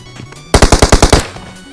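A rapid burst of about seven loud automatic gunshots in PUBG Mobile cracks out in an even rhythm, followed by fainter game sounds.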